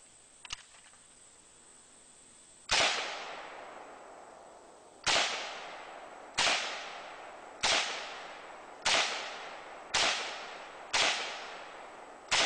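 A Romanian WASR-10 AK-47 rifle fires eight sharp, loud single shots at irregular intervals of about one to two seconds, each crack followed by a decaying echo, with quiet in between.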